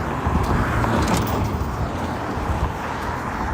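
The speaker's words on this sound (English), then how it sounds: "And the cars are zooming by me right now" Cars zoom past an outdoor roadside in a steady, continuous wash of traffic rumble and tire hiss, fairly loud and close, with wind noise mixed in and no talking.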